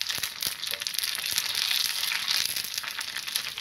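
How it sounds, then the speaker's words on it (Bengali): Puchka (fuchka) shells frying in hot oil, giving a dense, continuous crackling sizzle with sharp little pops, close and steady throughout. "দেখুন এইভাবে সবগুলো ফুচকা আমি ভেজে নিচ্ছি।"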